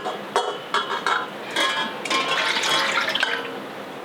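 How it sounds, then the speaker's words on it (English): Oil poured into a mixing bowl while making soap gives a close, liquid splashing and trickling pour with a few faint clinks, stopping and starting before a steadier stream. "we're going to pour our oil directly into here."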